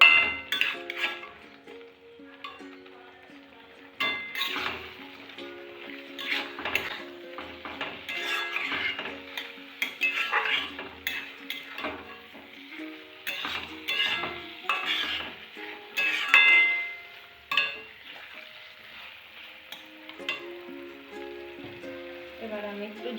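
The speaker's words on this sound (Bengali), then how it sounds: "এবার আমি পটলটা দিয়ে দেব। পটলটা দিয়ে একটু নাড়াবো।" Pointed gourd sizzles steadily in a frying pan while it is stirred, with repeated scrapes and clinks of the utensil against the pan and someone talking over it.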